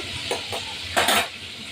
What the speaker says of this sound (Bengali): এবার এই পেঁয়াজটা ভেজে দেবো